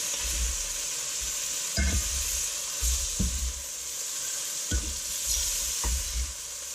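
Onions sizzle steadily in a frying pan just after pork cheeks were browned there, a constant close hiss with a few louder stirring scrapes spread through.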